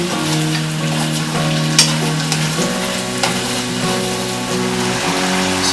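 Beef simmering and sizzling in a sweet soy sukiyaki sauce, a steady loud bubbling fry with a few sharp clicks of utensils against the pan throughout.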